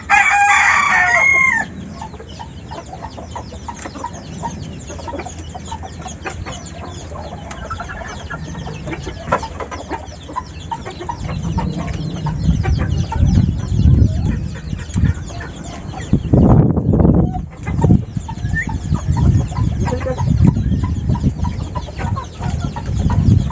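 Labuyo junglefowl, kept as pet chickens, crow and cluck close by in a steady run of calls and clucks, with rustling and livestock noise around them and brief human voices now and then.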